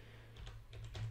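Keystrokes on a computer keyboard while typing a command line for a Raspberry Pi setup, a short run of close, crisp clicks over a low steady hum.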